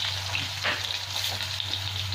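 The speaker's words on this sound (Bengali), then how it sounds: "এবার আমি ভাজতে থাকবো পটলগুলো খুব ভালো করে।" Pointed gourd (potol) frying in oil over a medium gas flame: a dense, continuous close sizzle and crackle with a low steady hum underneath, no voices.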